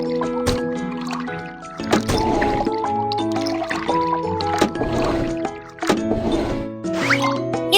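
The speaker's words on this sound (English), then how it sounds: "Pour liquid into the correct tank." Liquid pours and gurgles into a tank in a kids' car repair game, bubbly glugging sounds layered over bright, tonal game music and chimes.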